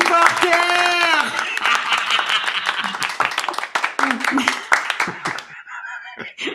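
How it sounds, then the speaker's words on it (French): A burst of applause and clapping breaks out to cheer a joke, with people talking and exclaiming over the crowd noise as it fades. "la première blague, on l'applaudit!"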